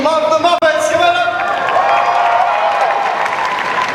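Crowd at a Sydney cosplay contest applauding and cheering for a contestant dressed as Kermit the Frog, loud and continuous with whoops mixed into the clapping, while a presenter's voice carries over the noise.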